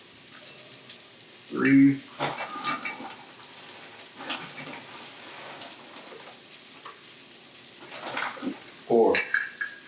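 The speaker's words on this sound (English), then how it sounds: "Stir this onions a little more." Onions fry in a pot for Cajun jambalaya with a soft, steady sizzle and occasional scraping stirs, quiet and close, while a person talks briefly over the cooking.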